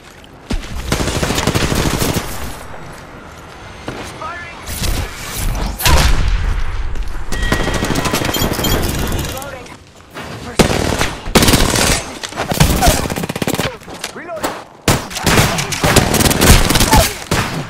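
Gunfire in Apex Legends: loud, rapid automatic bursts and single shots repeat in clusters throughout, with short pauses between volleys. Game voice callouts come in now and then between the shooting.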